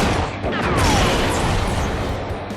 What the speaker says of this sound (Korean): 이렇게 산소통이 폭발하면서 엄청난 크기의 상어도 산산조각 나버립니다.